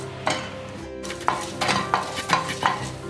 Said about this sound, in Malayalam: ഉഴുന്ന് ചെറുതായി മൂത്ത് വരുന്നുണ്ട്.